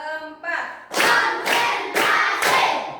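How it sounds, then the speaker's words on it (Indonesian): A classroom group claps hands in a counted routine: a few soft claps, then four loud, sharp bursts of clapping at roughly half-second intervals, close by. "Tepuk 1. Tepuk 2. Tepuk 3. Tepuk 4."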